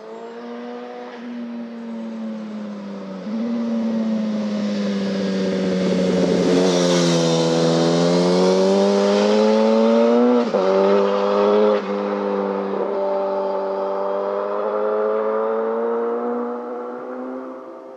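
A turbocharged 1991 Suzuki GSX-R motorcycle accelerating, its engine note rising and falling steadily and loud for the whole stretch, with harmonics climbing as it pulls and a brief dip partway through.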